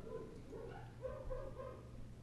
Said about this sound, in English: Can you hear those dogs barking?